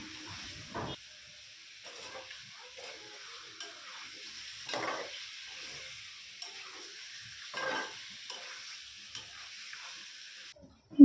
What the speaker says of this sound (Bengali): মুরগির মাংসটা পাতিলের মধ্যে দিয়ে দিলাম এই পর্যায়ে আমি একটু ভালো করে কষিয়ে নিব একটু তেলের মধ্যে ভাজা ভাজা হলে